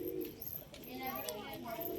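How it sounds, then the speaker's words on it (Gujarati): Domestic pigeons kept by their owner coo softly in low, throaty rolls, quiet and close, with faint higher chirps and some background noise over the short stretch. "કેવા છે આપણા કબૂતર તમે કમેન્ટ કરજો।"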